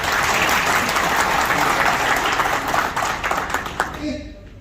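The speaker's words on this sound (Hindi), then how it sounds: "कुवैत चैप्टर के लिए जोर से ताली बजा दें।" An audience at an iftar get-together in Kuwait claps loudly and steadily, a dense wash of applause that holds throughout and thins out near the end.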